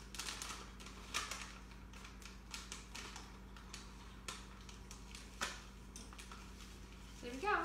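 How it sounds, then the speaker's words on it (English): A marker writes "dill" on the side of a bag of drying herbs, faint scratchy strokes in quiet room tone with a steady hum. "I'm going to write dill on the side of the bag so that I know which herb this is."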